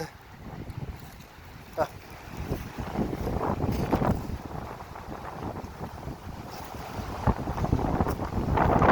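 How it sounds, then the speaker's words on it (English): Strong gusting wind roars and buffets against the microphone, rising and falling in heavy surges. "the wind is really whipping out here"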